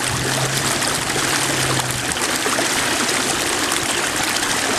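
Geothermal water pours steadily out of a drain in Iceland, a continuous close hiss and splash of flowing water with no talking.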